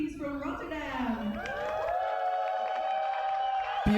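Spectators at an Eindhoven roller derby bout cheering for the Rotterdam Honeybees, a swelling chorus of high shouts and sustained screams from the arena crowd, steady and loud throughout.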